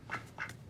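Two short nasal quacks from ducks in a TV show, close together and fairly faint, over a soft background hum.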